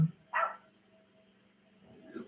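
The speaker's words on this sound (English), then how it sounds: "My doggies are barking" Pet dogs barking indoors: a sharp bark near the start, a louder burst around half a second, then fainter yips near the end, with a low hum between.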